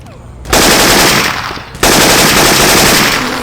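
Rapid automatic shotgun fire from Left 4 Dead 2 with modded weapon sounds: two loud, dense bursts of blasts, the second following a short pause.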